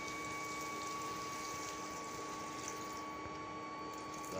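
Water is poured into a simmering village-style potato and prawn curry, making a steady, unbroken rushing splash at moderate level with no talking.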